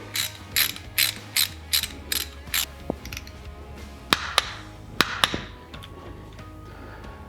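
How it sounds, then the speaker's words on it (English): Torque wrench ratcheting on a motorcycle brake pedal bolt for an S&S Cycle brake pedal kit on an M8 Harley-Davidson Softail, a steady run of crisp ratchet clicks, then a few louder metallic clicks spaced apart, close up with no talking. "we're going to go ahead and torque it down to 15 foot-pounds of torque"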